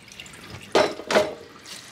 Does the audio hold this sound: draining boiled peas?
yes